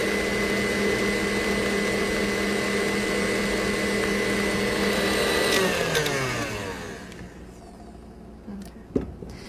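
An electric mixer whirs steadily on high speed while beating mascarpone, a loud continuous motor whine that winds down in pitch and fades near the end, followed by a brief clatter.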